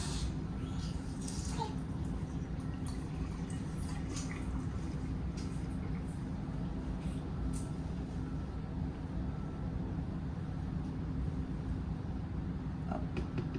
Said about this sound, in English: I use organic pasture-raised whole milk. And we're gonna fill that up to 4.